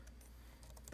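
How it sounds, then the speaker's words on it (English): Fingers tap out a password on a computer keyboard, giving a quick, faint run of clicking keystrokes in a quiet room. "Typing in my password, ding, ding."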